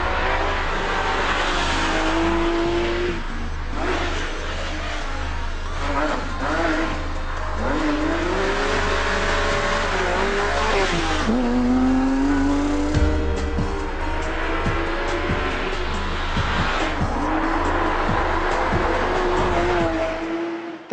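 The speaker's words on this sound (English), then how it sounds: "it's still, as you can hear, quite a noisy old girl" A 997-generation Porsche 911 GT3 RS driven hard: a loud, close flat-six engine revving up and down through the gears, with rising pitch sweeps, tire squeal and continuous road rumble.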